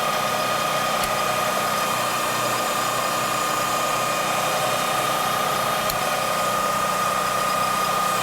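Manual lathe machining a small part in a shop, a constant mechanical hum with a steady high whine and two faint ticks, running evenly with no talk.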